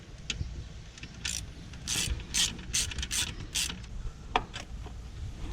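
Hand ratchet loosening a bolt on the supercharger of a 2014 Ford Raptor, a run of quick close clicking strokes in uneven bursts over a low background hum.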